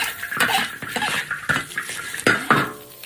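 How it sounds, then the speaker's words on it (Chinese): Garlic and ginger tossed into a hot pot with a little peanut oil alongside cured pork trotters, giving a run of clattering metal scrapes and knocks from a spatula stirring, with a faint sizzle underneath, close and steady, no talking. "蒜头姜也放下来爆一下"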